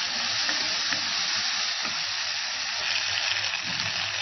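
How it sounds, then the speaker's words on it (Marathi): Ginger garlic paste and salt sautéing in a pan, giving a constant bright hiss of frying with faint stirring underneath, steady and close. "मीठ टाकलं आपण, आलं लसूणची पेस्ट टाकली आणि छान परतून घेतो आपण."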